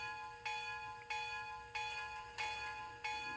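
A Bachmann DCC sound decoder in a model locomotive plays its locomotive bell, five quiet evenly spaced strikes with a ringing tone that fades between them, alone and steady.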